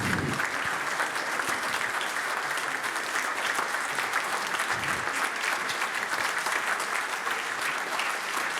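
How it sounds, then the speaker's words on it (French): Sustained applause from a concert audience for the musicians of a wind band at a Sainte-Cécile celebration, steady dense clapping that holds evenly throughout without a break. "On peut applaudir tous les musiciens."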